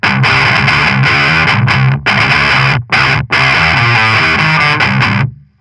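Thick, heavily fuzzed guitar riff through a Rise and Shine fuzz octave pedal in its fatter blue mode, loud and saturated with an octave layer, chugging chords with brief gaps before a final cutoff, played alone.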